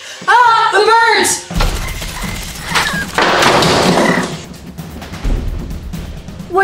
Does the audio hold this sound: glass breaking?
yes